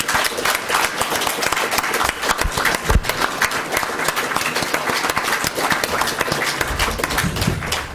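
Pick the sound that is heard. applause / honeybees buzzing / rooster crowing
applause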